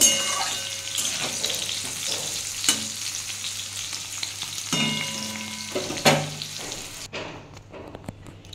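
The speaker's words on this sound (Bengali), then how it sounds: "আমি ওই তেলের মধ্যে একটু 5 ফোড়ন হাতে ঘষে দিয়ে দিলাম, আর একটু শুকনো লঙ্কা ফোড়ন দিলাম, দিয়ে এটা একটু ভেজে নেব।" Five-spice seeds and dried red chili sizzle in hot oil in a pan, a steady crackling fry broken by sharp spatters and clinks of stirring, with no talking.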